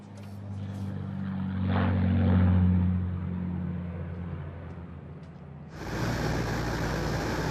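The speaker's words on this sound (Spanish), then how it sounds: "El Sud Black, el avión de Kennedy, tuvo un despegue perfecto." The Sud Black propeller plane used by Kennedy takes off, its engines droning with a steady low hum that swells and fades, then a sudden, louder burst of broadband engine noise takes over near the end.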